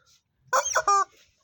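A talking toy plays a loud, close hen-clucking sound in two short bursts, harsh and honking in tone, with quiet room background around it.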